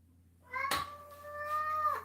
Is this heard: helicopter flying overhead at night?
no